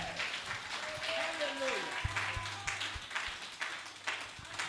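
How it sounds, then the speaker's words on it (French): A church congregation clapping and applauding during a worship service, a continuous mass of claps with voices and speech heard over it. "Can you clap well?"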